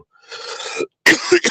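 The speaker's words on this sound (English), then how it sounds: "I'm gonna be coughing because I have a dry throat." A dry cough from a dry throat sounds close by: a raspy exhale, a pause, then two sharp coughs in quick succession.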